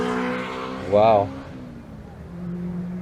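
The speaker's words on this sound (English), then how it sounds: "It just sounds like a little old Mini." A little old Mini at the Retro Rides Weekender on Goodwood Motor Circuit, its small engine burbling and rising briefly in pitch, heard beneath close conversation with a crowd murmur behind.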